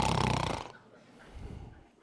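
A voice imitates a wife snoring contentedly in her sleep: a loud, rough snore for about half a second, then a softer, breathy exhale tailing off.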